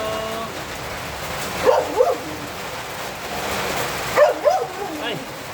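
Rain falls with a steady, even hiss all the way through, while a dog barks in two short pairs of barks over it.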